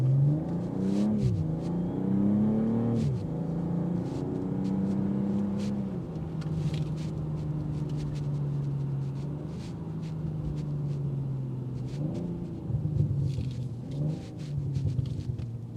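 A 2025 BMW M340i drives with a steady engine rumble and shifting harmonic tones, rising and settling as it slows toward a stop, heard up close with no talk.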